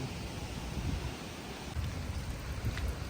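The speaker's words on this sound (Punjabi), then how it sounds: "ਪੂਰਾ ਆ ਗਿਆ ਮੀਂਹ" Steady rain falling, a soft even hiss with low gusty rumbles from wind buffeting the microphone.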